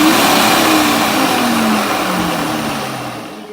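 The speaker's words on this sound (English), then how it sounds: "You didn't need to see the blender just going." A kitchen blender purees cooked cauliflower, roaring loudly and steadily with a whirring pitch that slowly sinks as the load thickens, with no voices.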